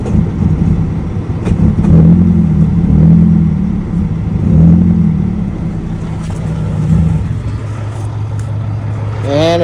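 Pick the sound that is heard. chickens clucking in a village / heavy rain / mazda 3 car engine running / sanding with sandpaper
mazda 3 car engine running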